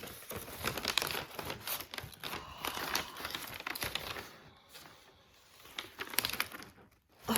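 White wrapping paper with gold lyric print is unfolded and handled, giving a continuous close crinkling and rustling that is loud at first, drops to softer handling in the middle, then swells again.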